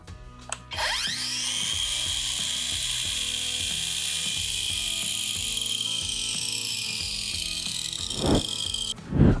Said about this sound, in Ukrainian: просто послухаємо, як працює тример